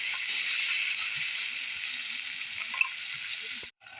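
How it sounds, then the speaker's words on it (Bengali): Biryani ingredients fry with salt and turmeric in a home kitchen pot, a steady bright sizzle holding throughout with a couple of faint clinks and a brief dropout near the end. "লবণ আর হলুদ দিয়ে আমি আরেকটু ভেজে নেব।"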